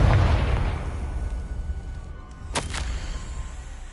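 A Confringo blasting spell bursts in Hogwarts Legacy, a loud boom at the start that rumbles and decays, followed by a couple of sharp crackling pops later on.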